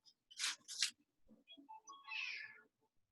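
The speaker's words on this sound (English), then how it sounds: "don't know if you can hear my cat. She sounds really sad." A pet cat meowing mournfully nearby: two sharp, drawn-out cries followed by softer, quieter murmurs and a longer wavering wail, with no other sound around them.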